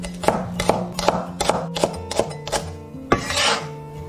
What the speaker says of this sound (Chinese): 蒜粒切小段备用